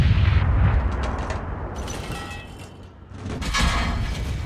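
Tank cannon fire in the video game World of Tanks rings out as heavy booming shots with rumbling decay, one near the start and another late, loud over a low continuous battle rumble and without speech.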